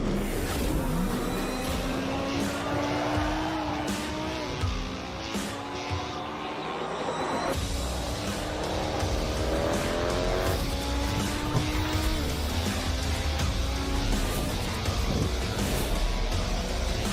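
Race cars circling Kansas Speedway during a Track Champions Series event, engines droning loud and continuous with rising and falling pitch as cars pass, faint tire squeal mixed into the roar.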